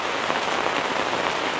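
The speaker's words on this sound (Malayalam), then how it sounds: "മഴ നല്ല അടിപൊളിയായിട്ട് പെയ്തുകൊണ്ടിരിക്കുകയാണ്" Heavy monsoon rain pours steadily on the ground outdoors, a dense, even hiss of drops with no voices, constant and loud throughout.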